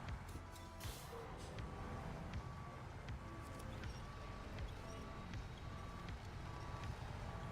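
Truck reversing beeps from the zombie survival game Project Zomboid, a faint, evenly spaced series of beeps running over a steady rumble of engine and background game noise.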